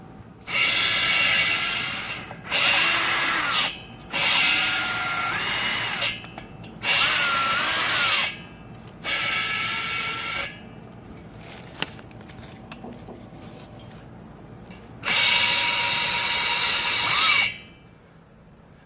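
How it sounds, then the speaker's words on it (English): A power drill spins an engine exhaust valve during valve lapping, whirring in repeated bursts of a few seconds each, loud and close, with brief pauses between runs and one longer final spin. "I'm gonna hook up the drill to the other side and"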